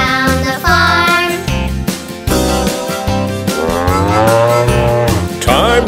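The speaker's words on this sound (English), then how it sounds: "The old milk cow goes moo, moo, moo." A cow's moo rings out within a bright, bouncy nursery-rhyme song about farm animals, sounding loud and close over a steady backing of music.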